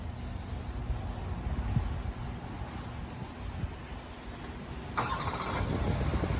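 A locked car is started by remote start: faint low engine rumble idles in the background, then a sharper burst of sound as the engine catches and runs on steadily.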